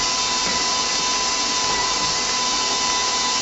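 A stand mixer kneads Easter bread dough (Pane di Pasqua), making a steady, high-pitched motor whine with a constant tone throughout and no talking.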